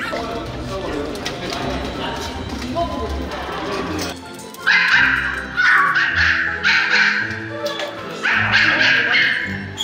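Many rescued dogs from a breeding facility bark and yip loudly in rapid overlapping bursts, with whimpers and a busy room underneath, after an opening stretch of murmured talk and clatter.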